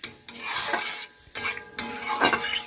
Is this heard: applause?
no